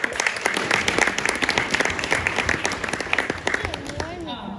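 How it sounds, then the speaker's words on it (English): A marathon crowd claps in sustained applause, dense and lively, with a few voices and whoops mixed in. "round of applause."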